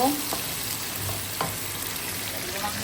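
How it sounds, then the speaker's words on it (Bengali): Onion and garlic fry in a hot pan with a steady sizzling crackle, a few scraping stirs cutting through, close and alone with no talking. "পেঁয়াজ আর রসুন দিয়ে দিচ্ছি এগুলো একটু ভেজে তারপরে অন্য সব মশলা দিয়ে দিব"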